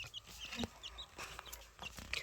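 Quail chicks chirp in short, high, scattered peeps over soft farmyard clucking, quiet and fairly close.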